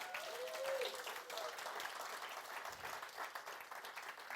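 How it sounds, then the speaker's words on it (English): Conference audience applause, a steady wash of many hands clapping, quiet and distant, with a brief voice early on. "So round of applause for Gary"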